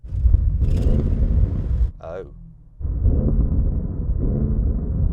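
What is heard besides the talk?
Audi RS6 V8 engine revving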